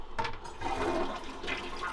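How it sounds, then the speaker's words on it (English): A normal household toilet inside a triple-decker micro camper flushes close by, a loud rushing gurgle of water that swells and churns steadily for a couple of seconds. "Not only do we have a toilet, but it's a normal toilet, not a camper toilet."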